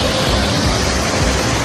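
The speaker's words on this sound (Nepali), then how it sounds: "हेर्नुभयो निन्दा सिरनको पानी हेर्नुहोस्" Water rushing at the Ninda Siran waterfall in Nepal, a loud, dense, unbroken roar of falling water close by, with no other sounds standing out.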